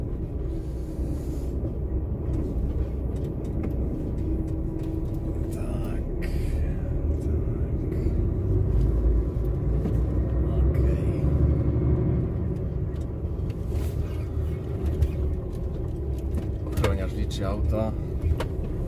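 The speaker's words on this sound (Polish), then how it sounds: "Auta." Cars driving through the car park of a ferry terminal for the Polonia ferry between Świnoujście and Ystad: a continuous low engine rumble with passing vehicle noise, steady and fairly close, with occasional voices.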